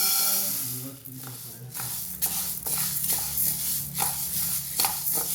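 Green gram dry-roasting in a pan gives off soft, scattered clicks and rattles as the grains are stirred, over a faint, low background hiss.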